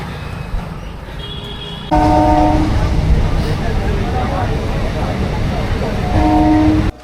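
A train at Sonarpur railway station rumbles loudly nearby, with horn-like tones and a sudden surge as it passes, and people talking over the station noise.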